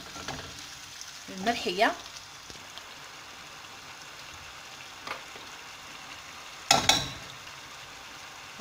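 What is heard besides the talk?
sardine tagine sauce frying in the pan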